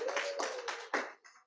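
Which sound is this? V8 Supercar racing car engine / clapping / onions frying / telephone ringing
clapping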